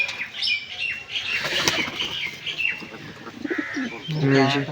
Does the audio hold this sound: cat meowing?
no